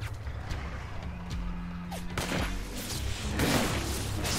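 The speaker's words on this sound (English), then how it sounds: "Damn right they're shooting at us." Enemy gunfire in the InFamous 2 video game: scattered sharp shots and crackling bursts, moderately distant, over a steady background of game noise and rumbling.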